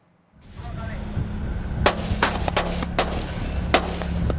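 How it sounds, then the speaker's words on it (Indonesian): Several sharp warning gunshot bangs fired into the water from a patrol boat off Natuna, spaced irregularly over a steady engine rumble, loud and close, with a voice speaking between them. "Tembakan peringatan 1 kali."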